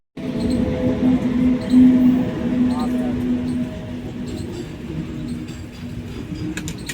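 A metro train at Vaishali station rumbles loudly with a steady tonal hum and rail noise that gradually eases, sustained across the whole stretch without speech.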